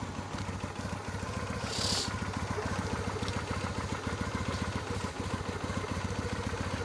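A Honda Shadow Slasher 400 motorcycle with about 25,000 km idles steadily up close, its V-twin engine thumping in an even, rapid rhythm with a faint rattle, and no one talking over it.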